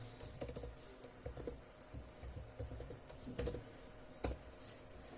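Computer keyboard typing a file name, quick irregular bursts of key clicks close by in a quiet room, with a sharper louder keystroke near the end.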